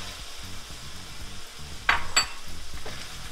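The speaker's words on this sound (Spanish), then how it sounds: "Ahora le voy a agregar los frijolitos" Refried beans dropped into a pan of melted cheese for beef nachos, giving a steady close sizzle with two sharper bursts of spatter and faint utensil clinks, no talking.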